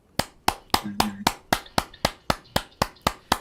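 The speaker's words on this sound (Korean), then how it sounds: "황덕현 스타마스터님께 큰 박수 부탁드리겠습니다" Applause for lecturer Hwang Deok-hyeon at the close of a company lecture, heard as a steady, evenly spaced series of about a dozen sharp, crisp single claps, close and alone.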